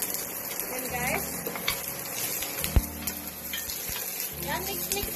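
Onions being stir-fried in a pan for tinola, a close continuous sizzle with repeated scraping stirs and a sharp metal knock, while a voice is faintly present in the background.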